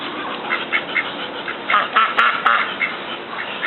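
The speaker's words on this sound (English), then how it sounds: "You like the duck?" A duck being fed bread quacks repeatedly in short raspy bursts, fairly close and clear, with no talk over it.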